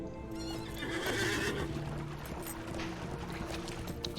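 Horse neighing and clip-clopping hooves in the online game LOTRO, a whinny layered over steady hoofbeats, fairly close, with no talk.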